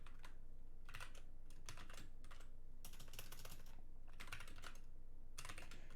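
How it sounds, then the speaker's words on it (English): Someone types a login on a computer keyboard: bursts of quick, close key clicks separated by short pauses, fairly quiet over a faint background hum, with no talking. "Can anybody figure out my password based on my typing patterns?"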